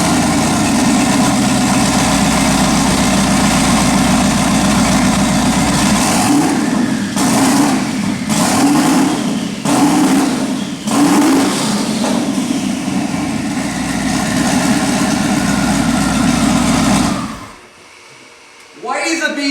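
A twin-turbo second-generation Dodge Ram diesel idles with a loud, steady rumble, then revs several times in short bursts around the middle before cutting off near the end.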